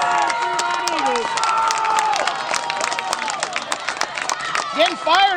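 A high school football crowd roars and cheers at a night game between the Churubusco Eagles and Fremont Eagles, a dense wash of shouting and whistling voices with scattered clapping, loud and continuous.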